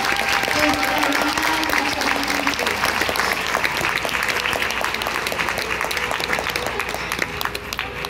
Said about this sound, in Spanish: ¿Verdad que le podemos dar un aplauso para que vea cómo le extrañamos?